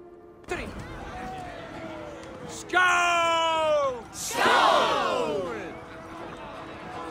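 Warriors in Assassin's Creed Valhalla let out a rising group battle cry, loud bellowed yells and whoops swelling in two surges over a tonal score, then fading.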